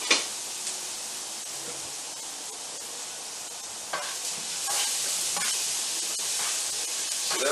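Onions cook in butter in a pan with a steady soft sizzle, stirred now and then so the hiss swells and scrapes briefly, close and fairly quiet.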